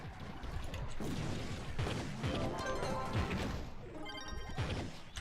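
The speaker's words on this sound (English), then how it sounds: "Start smashing this guy up." Enemy being smashed in the video game Trove, a rapid series of loud crashing hits and thuds layered over game effects, with a brief chiming sparkle near the end.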